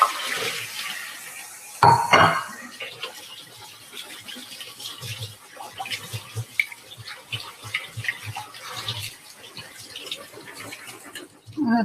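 Soaked cashews rinsed in a sieve under a running kitchen tap: a steady, fairly quiet wash of water with clatter near the start and a few louder splashes.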